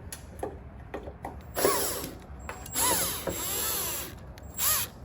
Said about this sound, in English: all I'm going to do is remove these two screws here, right there, and then this bolt here